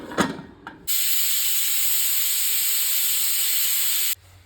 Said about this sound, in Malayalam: 2 വിസിൽ വരുന്നത് വരെ ഹൈ ഫ്ലെയിമിൽ കുക്ക് ചെയ്യുക